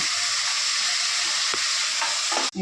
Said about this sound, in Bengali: এইবার গ্রেভিটাকে ভালো করে কষিয়ে এর মধ্যে একটু নুন হলুদ দেবো, দিয়ে ভালো করে কষাবো